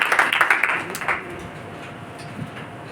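An audience in a church gathering claps in a short burst of quick, fairly close hand claps that fade out after about a second, leaving quiet room tone.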